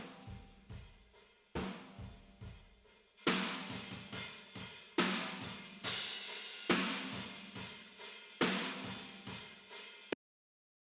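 Drum mix from an epic hybrid trailer track with the snare top track muted, leaving room and bottom sound: a steady pounding pattern of booming hits with washy decay, louder in the second half, stopping abruptly near the end.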